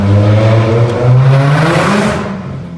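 Supercharged Chevrolet Cobalt SS with a ZZP Stage 1 setup accelerating: a loud, close engine drone with a whirring supercharger note that rises in pitch through the pull, with no talking.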